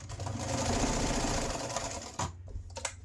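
A sewing machine runs one continuous stitch on a fabric wand holster, a fast steady mechanical whir up close for about two seconds, then stopping with a few short clicks and bumps.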